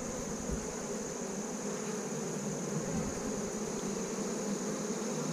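Honeybees hum in a dense, steady drone around an open hive frame, close and continuous with no talking.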